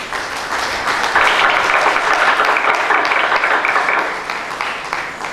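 Sustained applause from an audience at a Nigerian Institution of Environmental Engineers event in Port Harcourt, a steady dense wash of clapping that swells loudly and holds for several seconds before easing slightly.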